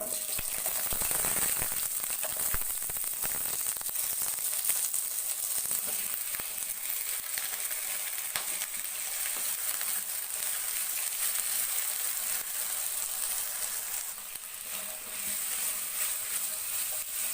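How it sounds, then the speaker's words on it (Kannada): Gram, poppy seeds, spices, onion, garlic and ginger sizzle steadily in hot oil, a dense, continuous crackle close by with faint rattles of a pan, alone with no voices. "ಇದನ್ನು ನಾನು ಸ್ವಲ್ಪ ಎಣ್ಣೆಯಲ್ಲಿ ಫ್ರೈ ಮಾಡ್ಕೊತೀನಿ"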